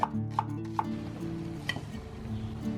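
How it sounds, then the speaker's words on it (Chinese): A knife cuts half an onion into strips, giving a few crisp, evenly spaced chops at the start before fading into a low steady background hum. "半个洋葱我们切丝"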